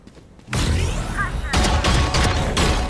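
Rapid gunfire in the video game Valorant, a loud dense volley that starts abruptly and continues in sustained bursts close up.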